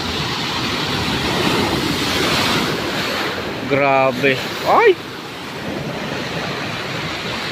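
Large waves surging and crashing at the sea shore under a steady broad roar with wind buffeting the microphone, while a voice exclaims briefly over it.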